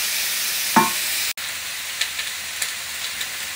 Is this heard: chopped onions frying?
yes